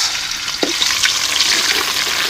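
Onion paste frying in hot pure mustard oil for a hilsa and pumpkin-leaf curry, a steady loud sizzle with a brief stirring scrape near the start and no talking.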